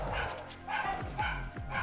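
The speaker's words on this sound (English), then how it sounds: "And the dogs go wild, as they tend to do." Dogs in the REV2 Raid Mode video game bark and yip excitedly, a rapid run of overlapping barks with some whimpering, set against a steady game backdrop.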